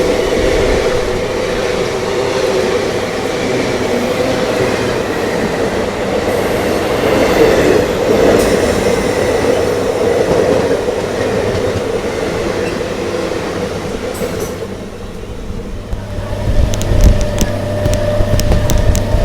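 A sixteen-car electric MEMU train, two sets coupled together, rumbles steadily past nearby, with continuous wheel noise and a faint squeal as it goes by.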